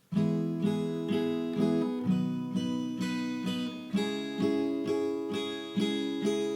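A guitar strums a sequence of chords, each struck and ringing for about a beat in a steady rhythm, close and clear with no voices.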